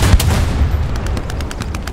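Gunfire in the World War II shooter Hell Let Loose: a dense run of sharp shots, several heavy bangs early, then a steady string of evenly spaced rapid cracks, loud and close over a constant battle rumble.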